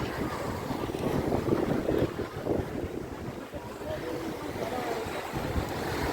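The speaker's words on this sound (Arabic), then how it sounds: "الموجة مش عالية قوي، يعني بصوا كانت بتطلع لغاية هنا كده" Gentle sea waves washing onto the beach at Marsa Matruh on a calm day, a continuous low surf rumble with wind buffeting the microphone.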